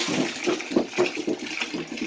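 Water pours into a container holding chopped apple for homemade cider vinegar, a close splashing gurgle that pulses in short surges for a couple of seconds.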